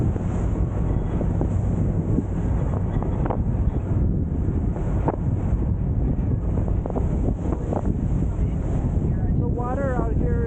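A fast passenger ferry runs at about 30 miles an hour across deep open sea, its engine drone and hull slap buried under heavy, constant wind roar buffeting the microphone, with a few faint voices mixed in.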